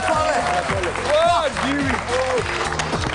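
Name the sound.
audience applause welcoming a guest at a comedy show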